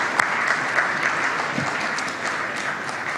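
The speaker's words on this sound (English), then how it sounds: "It deserves a round of applause." Audience applause at a cybersecurity conference session, a steady wash of many hands clapping through the room, sustained at an even level without talk.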